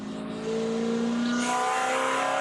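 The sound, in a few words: Spec Corvette race car engine, driver lifting throttle at Daytona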